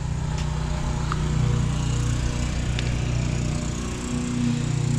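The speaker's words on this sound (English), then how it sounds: "And I wonder if we can hear over the neighbors mowing the lawn." A neighbor's lawn mower drones steadily in the background next to a workshop where fuel jets were being changed, a constant buzzing engine hum that never lets up.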